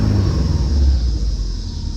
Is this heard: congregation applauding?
no